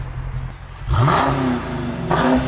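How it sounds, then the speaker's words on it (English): Dodge Challenger Scat Pack with a muffler-delete exhaust revved hard: a deep idle rumble jumps into a loud, raspy climbing roar, dips, then surges again, close and dominant with no talk. "I'm gonna rev"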